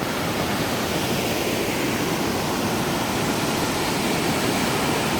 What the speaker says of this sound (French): Et la cascade, en fait, est juste derrière.